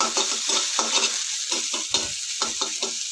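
Fried onions with a couple of pinches of sugar are stirred in a pan, giving rhythmic scraping strokes over a continuous close sizzle.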